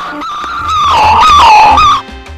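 A dachshund sings a sustained, wavering howl lasting about two seconds, loud and close, rising and falling in pitch over a faint rhythmic background.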